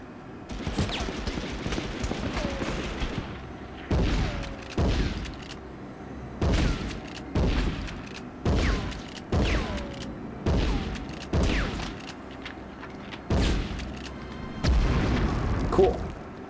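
Grenade blasts and a spray of gunfire from the video game Medal of Honor, heavy booms landing in repeated bursts roughly every second or two, loud and close, with no talking over them.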